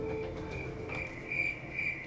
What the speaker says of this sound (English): Are you serious? Crickets?